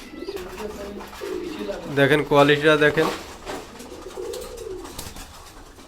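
Red-necked pigeons coo in a close, loud burst of throaty rolling calls, with softer cooing before and after, while someone talks over them.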